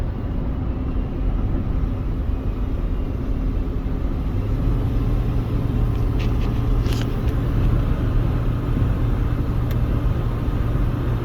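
Steady road rumble and engine drone from a 2003 Chevy Trailblazer driving along, a continuous, even interior hum with no talking.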